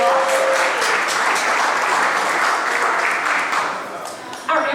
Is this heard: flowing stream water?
no